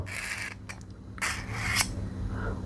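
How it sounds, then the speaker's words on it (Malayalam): A razor blade scrapes rust off a pair of scissors in short, close rasping strokes with pauses between them, fairly quiet against a low background hum. "ബ്ലേഡ് എടുത്തിട്ട് വളരെ സിമ്പിളായിട്ട് കണ്ടോ അതിൻ്റെ തുരുമ്പ് മാത്രം ഒന്ന് ചുരണ്ടിയെടുക്കുക"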